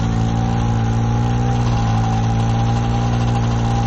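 A modified snowmobile engine revs steadily at an open modified drag race, a loud, close, continuous droning roar with a slight dip in pitch midway and no speech.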